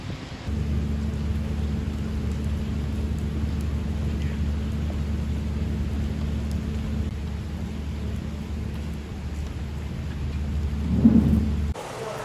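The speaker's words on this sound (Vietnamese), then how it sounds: "Tại đường 70, mưa lớn gây ngập úng." Heavy rain pours down during Typhoon Yagi in Hanoi, a dense steady hiss with a deep continuous rumble of thunder underneath, swelling briefly near the end.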